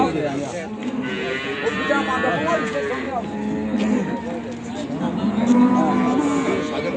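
Several cows moo repeatedly at a livestock market in Ceyhan, Turkey, overlapping low drawn-out calls close by, with a busy crowd murmur and occasional voices in the background.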